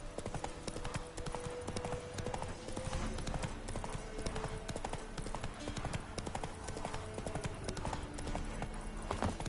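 The horse Roach gallops in The Witcher 3, a continuous rapid clip-clop of hooves with game ambience mixed in.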